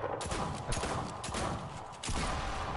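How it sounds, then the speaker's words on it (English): An automatic turret in the Fortnite video game sprays rapid, continuous gunfire, a dense run of close, loud shots with a brief dip before the volley resumes. "We put this thing called turret in the game that sprays anything it sees"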